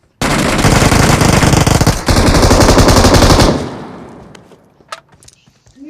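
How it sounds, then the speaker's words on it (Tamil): Machine gun in a video game fires a loud, continuous burst for about three seconds, then cuts off, leaving faint clicks and rattles. "மச்சின் கன் இருக்கு, மச்சின் கன்."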